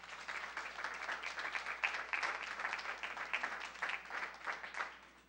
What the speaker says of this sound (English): You folks are going to be real tired if you're going to keep clapping for everybody who speaks